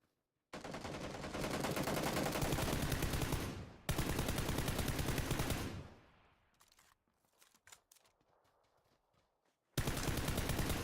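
Rapid bursts of hip-fired automatic gunfire in the video game PUBG, loud and dense, in two long strings broken by a short pause, then a quieter stretch of scattered shots before another loud burst.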